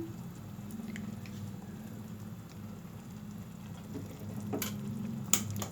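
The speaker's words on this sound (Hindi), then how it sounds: "ये मैं मक्खन डाल रही हूँ।" Butter dropped into a pan of Karachi-style fry kebab, giving a soft, steady low sizzle with light crackles and a few sharper pops toward the end, close and fairly quiet.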